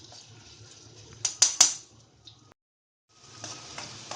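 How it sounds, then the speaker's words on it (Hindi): Garlic-ginger paste hits hot oil with a soft, steady sizzle, broken by a few sharp crackles and pops, then a short pause before the sizzling starts again. "तेल गरम हो जाए तो उसमें डाल देंगे लहसुन अदरक का पेस्ट।"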